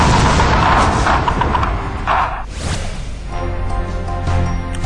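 Army rocket launchers, anti-tank guided missiles and automated grenade launchers firing on Pakistani border posts at Nowshera, Jammu and Kashmir: loud booming blasts and rumbling concussions, dense at the start, then a second heavy blast rolling out into echoing rumble.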